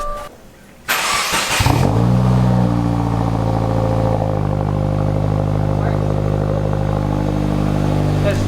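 A 2018 Subaru WRX fitted with a GrimmSpeed cold air intake cranks and fires up for its first start, then settles into a loud, steady idle close by, with a person speaking under the engine.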